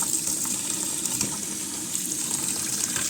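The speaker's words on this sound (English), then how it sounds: "submerge them with hot water" Hot tap water running into a container to submerge strings for cleaning, a steady close splashing gush with slight fluctuations throughout, no talking.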